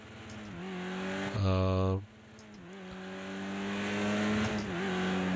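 A Caterham 620R race car in the racing game Project Cars 2 revs hard and close. The engine note climbs and drops through quick gear changes, with a brief louder high-rev burst in the middle.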